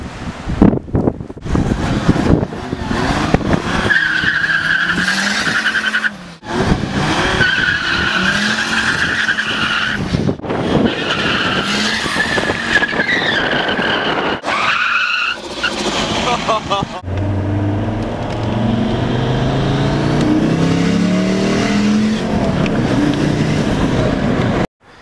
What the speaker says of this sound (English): a burnout in the OM605 W211